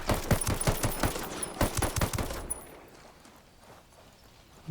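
Rapid bursts of gunfire in Ghost Recon Wildlands, a string of sharp repeated shots over the first half that then trail off into a quieter stretch.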